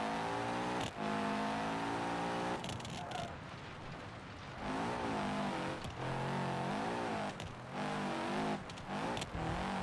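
A rally car engine in BeamNG revs hard and continuously, loud and close. Harmonic whines rise and fall through gear changes, broken by brief dips, with gravelly road noise underneath.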